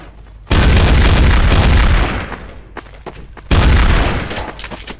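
Two loud, close explosive bangs from a flashbang grenade in the video game Counter-Strike: Source, each a sharp hit with a roaring decay lasting over a second, spaced about three seconds apart.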